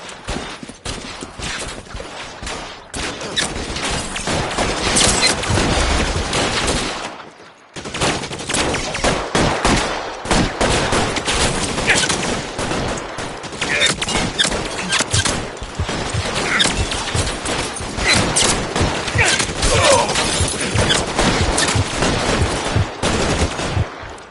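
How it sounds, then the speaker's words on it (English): Gunfire rages through a 1950s film shootout, a dense sustained barrage of shots and bursts that drops out briefly before resuming just as loud and continuous. "Bullets start flying."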